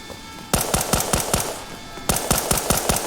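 A sentry turret fires in the Resident Evil Re:Verse video game, sending two quick bursts of sharp, evenly spaced automatic shots that sound loud and close, with no talking.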